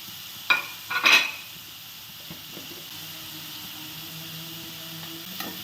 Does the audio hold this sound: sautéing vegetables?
yes